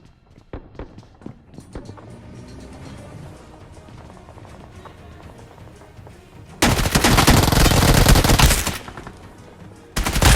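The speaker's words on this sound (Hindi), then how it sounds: "अब यहाँ मेरे को बड़ी देर से फायरिंग की साउंड आ रही थी" Gunfire in a mobile battle royale game played on an iPad: scattered single shots and bursts early on, then a dense, loud stretch of sustained automatic fire in the middle, with a final burst at the end.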